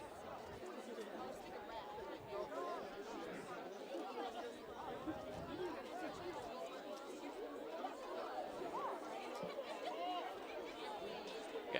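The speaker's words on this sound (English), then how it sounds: "Quite a crowd here on both sides" Dense crowd chatter fills the stands at a high school soccer match between crosstown rivals Port Huron Northern and Port Huron, a steady murmur of many voices with no single speaker standing out.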